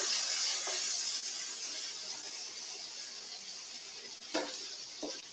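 Black beans and quinoa stirred in a pan: a soft steady sizzling hiss with a few sharp scraping knocks of the spoon near the end, no talking.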